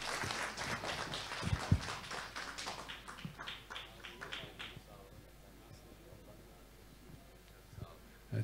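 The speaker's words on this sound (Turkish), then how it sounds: "Saygıdeğer başkanımızı güçlü alkışlarınızla sahneye davet ediyoruz." An audience claps at a Ramadan gathering in Eyüpsultan. A dense burst of applause rises at the start, holds steady, then thins and fades over the back half, ending in scattered noise.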